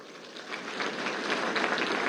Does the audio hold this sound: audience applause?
yes